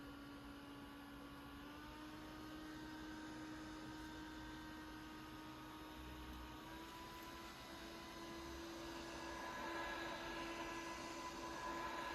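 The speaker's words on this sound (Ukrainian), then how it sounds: "Тепер я направлятиму вімкнений вентилятор на хутряну шапку, аби ви побачили, наскільки він потужний на кожній швидкості." A portable neck fan with a digital display and built-in battery runs steadily while blowing at a fur hat. The faint, even whirring hum steps up in pitch twice as the speed setting changes, with no voices.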